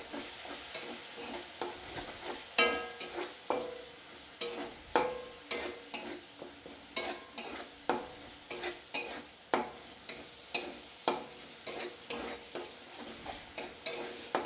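Tomato paste and mixed vegetables sizzle in a pan for a Bengali mix veg dish, with repeated rhythmic scrapes and knocks of a spatula stirring through a steady frying hiss, close and fairly quiet.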